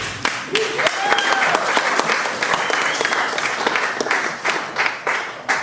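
A room full of audience members applauds performers, dense sustained clapping with a few whoops and voices over it, fairly close and loud throughout.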